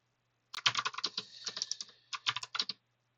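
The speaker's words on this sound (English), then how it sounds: "I'm gonna write some email here" An email is typed on a computer keyboard: a quick close-up run of crisp key clicks in two bursts with a short pause between, over a quiet room with no talking.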